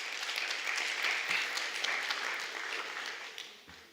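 An audience at a graduation ceremony applauding after the President's address, a sustained wash of many hands clapping across a hall, tapering slightly toward the end.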